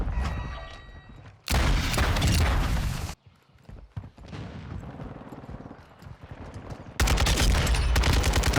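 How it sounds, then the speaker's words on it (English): Kastov 762 rifle fire in Call of Duty MW2 comes in loud, close bursts of rapid gunfire, broken by a quieter stretch of scattered game sounds and footsteps before another long burst. "Right when I fire my gun, they're gonna know where I'm at."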